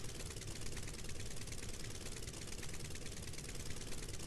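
An aircraft engine in Kerbal Space Program drones steadily at low volume, a constant rumbling hum without breaks and no voices over it.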